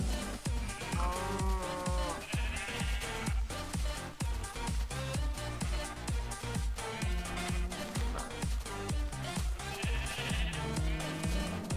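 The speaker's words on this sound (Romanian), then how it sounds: "oile sunt cele mai multe animale în spatele meu" Many sheep bleat in Minecraft, mixed with cow moos, from a crowd of farm animals following close behind; the overlapping calls come repeatedly and loudly over a steady rhythmic music track.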